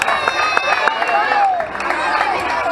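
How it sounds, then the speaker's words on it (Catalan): Crowd applause and cheering for the winners at a Xàtiva running race prize ceremony, steady clapping under a busy babble of voices, with an announcer's amplified voice faintly mixed in. "Un fort aplaudiment pels tres."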